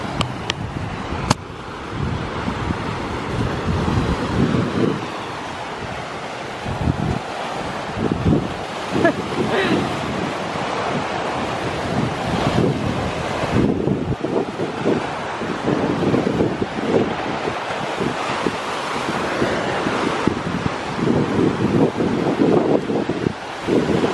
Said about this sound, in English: I could just sit on the beach all day and just listen to the waves.